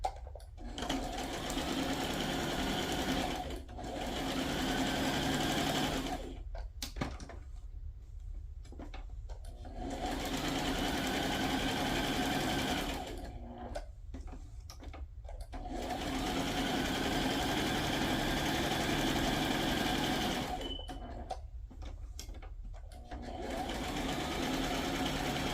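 A sewing machine runs in long steady stretches of stitching on handmade journal tags, close and fairly loud, broken by short pauses where a voice speaks briefly.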